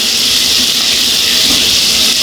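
Pork cuts browning in a hot pan give off a loud, steady sizzle that holds unbroken for the whole stretch, with no talking over it.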